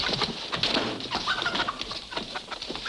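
Chickens clucking in a busy barnyard scene, irregular bird calls overlapping at close range with steady mid-level noise and no clear talk.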